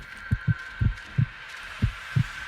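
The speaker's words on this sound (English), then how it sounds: "That nice Call of Duty sound heartbeat." A heartbeat warning in the game Brutal Legend throbs low and steady: six thudding beats in lub-dub pairs, loud and close over a faint constant high tone, with no talking.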